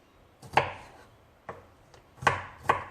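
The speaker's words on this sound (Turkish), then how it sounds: "sarımsağımız da çok minik de değil de hani biraz küçük bir şekilde doğrayalım" A knife chops garlic on a cutting board in five sharp, separate strikes at an uneven pace, close and alone in a quiet room, for olive-oil braised peas.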